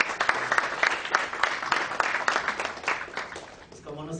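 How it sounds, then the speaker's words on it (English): Conference audience breaks into applause at a panel discussion, a full room of hands clapping steadily with a lively, slightly uneven texture, tapering off toward the end. "I think it deserves a round of applause"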